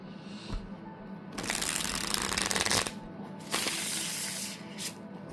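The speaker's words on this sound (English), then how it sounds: "it's a very satisfying shuffle" Linen cardstock tarot cards are shuffled close up in two long riffling bursts, a dense papery flutter with softer handling sounds between them and no talking.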